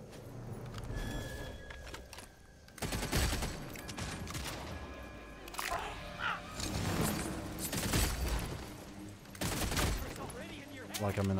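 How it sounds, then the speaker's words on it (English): Gunfire from the video game Redfall, including sniper shots, cracks out in loud bursts and volleys across the scene, mixed with game sounds and heavy overlapping talk from players. "I think we might just use the sniper on him."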